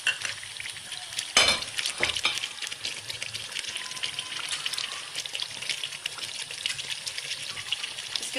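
Beef biryani masala sizzles and fries in a pot while a spoon scrapes and stirs it, with a sharp clatter early on and a steady bright crackle throughout, close and alone.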